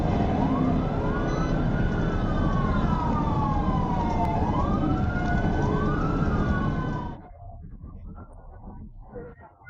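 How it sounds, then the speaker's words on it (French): A police siren wails during a city chase after a motorcycle thief, loud and close with rising and falling sweeps over engine noise, then cuts off abruptly, leaving quieter traffic. "L'agent a actionné la sirène,"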